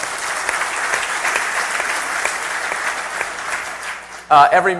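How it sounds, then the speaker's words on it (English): A conference audience at a startup talk applauds the event's sponsors, with steady, dense clapping filling the room for about four seconds before a voice speaks over the tail end. "can I just get a round of applause for all our sponsors?"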